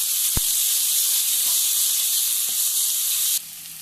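Onion paste frying in hot oil with browned garlic for a spiced turnip bharta, giving a steady, close, even sizzle and hiss throughout, dropping slightly quieter near the end.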